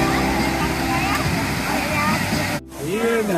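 Pinsal Falls, also called Twinkle Falls, in Santa Maria, Ilocos Sur, roars as a steady, close wash of falling water, with people talking over it throughout.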